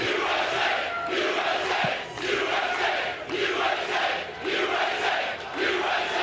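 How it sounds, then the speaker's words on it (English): Large sports crowd chanting "USA" in a steady rhythmic chant, loud and continuous, with the swells of voices repeating every second or so across the stadium. "Nothing better than the USA chant at an event like this."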